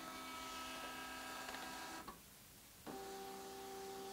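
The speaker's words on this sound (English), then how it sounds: "And it's printing." An ECG machine prints a test strip in a clinical setting, giving a steady mechanical whirring hum with faint ticks that briefly drops away near the middle before resuming, close and continuous.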